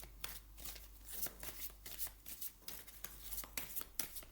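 Tarot or oracle cards being shuffled up close: a steady run of soft riffling flutters and papery slaps in quick repeated bursts, over a low background hum, without talking.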